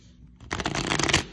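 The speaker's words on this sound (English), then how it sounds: "I'm gonna just see how it shuffles." A deck of oracle cards being shuffled, a quick close burst of riffling flutter that lasts under a second after a short quiet lead-in.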